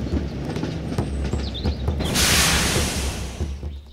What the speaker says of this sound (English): Mario decides to reverse the train and figure out a solution.